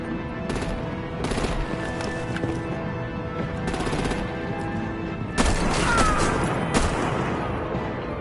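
Rapid machine-gun bursts and booming artillery fire from the video game Batman: The Enemy Within crackle in repeated loud volleys, growing denser and heavier in the second half.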